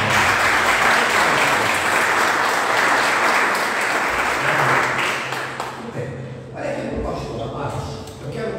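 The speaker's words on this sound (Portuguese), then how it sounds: "eu quero que você aplaude o Senhor bem forte, com toda a alegria do seu coração" A church congregation applauds loudly during a family worship service, a dense sustained wash of clapping that thins out toward the end, with voices mixed into the crowd noise.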